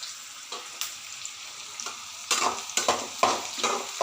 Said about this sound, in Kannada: ಈ ಥರ ಫ್ರೈ ಮಾಡ್ಕೊತಾ ಇದ್ದೀನಿ